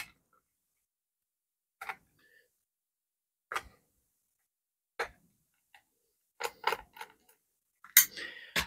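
A screwdriver works the bolts on an RC mini submarine, making sparse, faint ticks and creaks that come in isolated bursts and then cluster into quicker clicks toward the end.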